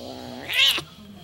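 A kitten gives a single loud, drawn-out meow, rising then falling, close to the microphone with quiet room noise around it.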